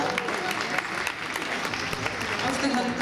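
Audience applause fills a beauty pageant hall as the last finalist is announced, a dense, steady clatter of many hands with an announcer's voice running over it.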